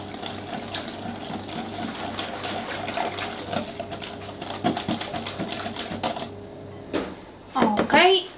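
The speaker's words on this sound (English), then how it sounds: "we start mixing again. Like, as you can see, it's getting thick." Thick vegan beetroot brownie batter is being mixed, giving a steady mechanical whir broken by rhythmic clicks and taps. Louder knocks come near the end, and someone talks faintly in the background.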